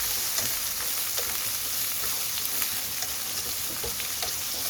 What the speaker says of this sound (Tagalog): Lagyan natin ang buong garlic guys.